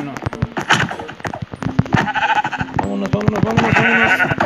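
Sheep in a capture-the-sheep video game minigame bleat repeatedly and loudly, with sharp clicking and rapid popping game effects underneath and a busy, dense mix throughout.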